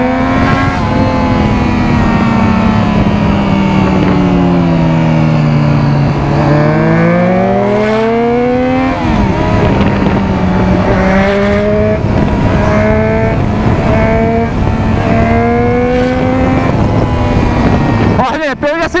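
A Kawasaki Z750 motorcycle with a loud aftermarket exhaust revs hard and close, its pitch climbing, dropping and surging again in repeated throttle blips, ending with a sharp final burst.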